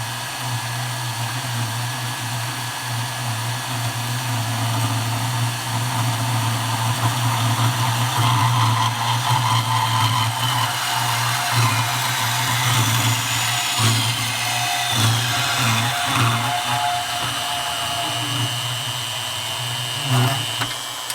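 A bandsaw on a Harbor Freight universal bandsaw stand runs at increased speed while cutting clamped stock. It gives a loud, steady motor hum with a constant whine and shifting grinding texture, continuous and close.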